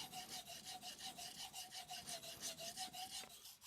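A Shirogami nakiri knife is pushed back and forth on an Amakusa and Tanaka Kyoto Japanese natural stone, a soft, steady rasping stroke repeated about twice a second, close and quiet with no talk.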